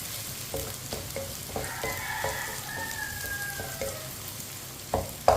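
Chopped onions fry in oil with cinnamon sticks and cardamom, a soft continuous sizzle broken by the regular taps and scrapes of a stirring spoon and a louder clank near the end, with no talking.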